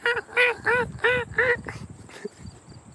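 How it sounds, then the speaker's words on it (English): A bird repeats a nasal, honking call five times in quick rhythm, loud and close, followed by softer scattered chirps over low background noise. "It's not a dog, I guess it's a bird."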